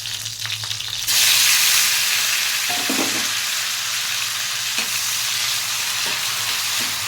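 Masala for a mixed vegetable curry frying in a pan, a quiet start breaking into a loud, steady sizzle that holds on, with a few stirring knocks and scrapes along the way.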